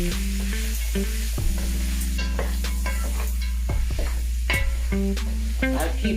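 Oxtail browning in a pot on a cooker turned to high for an authentic Jamaican dish, stirred with repeated scrapes and clinks of a utensil over a steady, close sizzle, with no talking.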